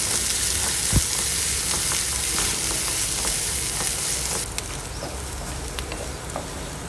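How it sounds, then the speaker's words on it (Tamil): Chopped onion, curry leaves and green chillies sautéing in oil for a Tamil chow chow poriyal, a loud continuous crackling sizzle with occasional stirring clicks and a faint bird somewhere in the background. "ஒரு பெரிய வெங்காயத்தை பொடிசாக கட் பண்ணி வச்சுருக்கிறேன். இதையும் போட்டு வதக்கி விட்டுறலாம்."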